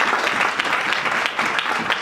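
A church congregation at a Sunday service claps hands together steadily, a dense, continuous patter of applause filling the room.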